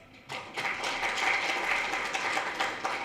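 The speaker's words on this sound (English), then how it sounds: "can we have a huge round of applause?" An audience at a National Space Day celebration in a university physics department breaks into a round of applause that starts abruptly and keeps up as a steady crowd clapping to the end.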